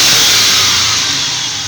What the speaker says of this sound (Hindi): गाड़ी एक्सेलेरेटर फुल प्रेस करके छोड़ें